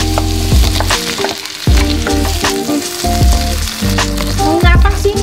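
Garlic and tomatoes fry in a pan for a pork ribs in tomato sauce dish, giving a loud steady sizzle broken by repeated clanks and scrapes of a utensil against the pan, with no talking.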